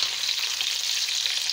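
Lamb liver pieces fry and are stirred quickly in a hot pan, giving a steady, loud, continuous sizzle with no voices.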